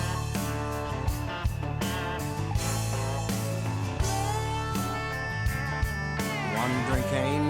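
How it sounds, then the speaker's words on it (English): A basic country song plays with a sung vocal over a steady band backing of rhythmic drum hits and sustained instruments, full and continuous throughout. "We've got a basic country song here. It sounds like this."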